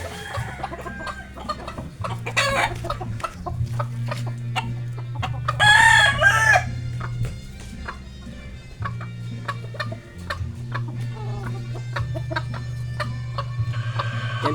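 A rooster crows loudly nearby among steady clucking from several chickens, with other birds chirping faintly in the background.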